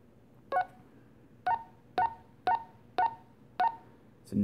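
A string of six short, evenly spaced electronic key beeps from a Puxing PX-888K radio, followed by a faint click at the end.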